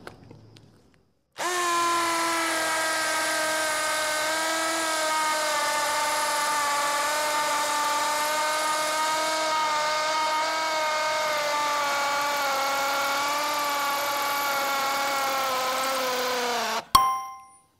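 A cordless 18V impact drill whines at a steady, high pitch as it bores into hard concrete with a widia bit, water-cooled, running continuously for about fifteen seconds before stopping abruptly.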